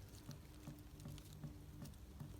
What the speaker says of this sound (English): You can hear it dripping.